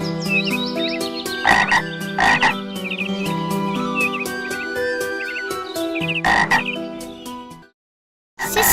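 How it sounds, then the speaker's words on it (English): A white-eyed frog croaking loudly and close, repeated rhythmic calls in bursts over a few seconds, then a short silence before another call begins. "Look, a white-eyed frog."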